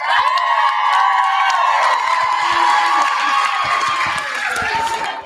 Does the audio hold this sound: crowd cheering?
yes